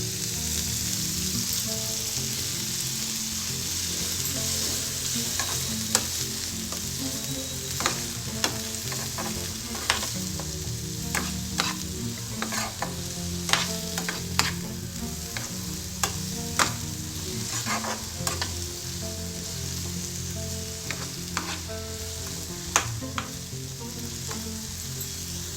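Bottle gourd pieces cook in a pan, sizzling gently with intermittent stirring clicks and scrapes against the pan, over a low, humming, tonal background, close but fairly soft, with no voices.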